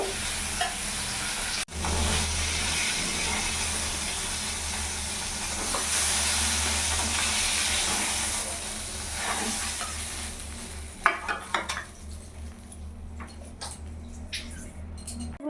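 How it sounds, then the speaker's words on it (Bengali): Fish fries in hot oil for a bhola fish masala curry, giving off a loud, continuous crackling sizzle that later breaks into sharper scattered pops and spits as it dies down. "তেল গরম হয়ে গেছে আমি এবার মাছ ছেড়ে দেবো"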